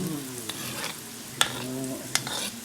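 Food sizzles and fries in a pan while being sautéed until golden brown, with a steady crackling hiss broken by a few sharp clacks of a utensil stirring against the pan.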